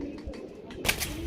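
A pigeon coos in a few soft, low, close phrases, set against a faint background and a brief rustle near the end.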